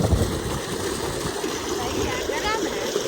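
Clean water gushes steadily from a solar-powered pump outlet, a close, continuous splashing flow while someone talks over it.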